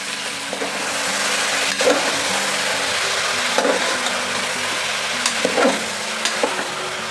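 Chicken going into a hot pan with oil and onions, a steady loud sizzle with occasional stirring scrapes and knocks over the continuous frying hiss.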